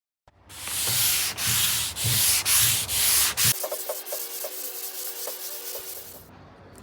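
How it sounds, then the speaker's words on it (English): Light sanding across a wooden dresser top, a steady scratchy rubbing in repeated strokes for about three seconds, then a softer, thinner rasp with faint tonal ringing continuing close by. "then do a very light, careful sand on the top"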